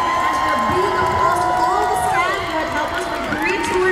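A concert crowd at a Manila stop of an Asia tour cheers, shouts and whoops loudly for the staff, with high excited voices rising and falling over a continuous roar that fills the arena.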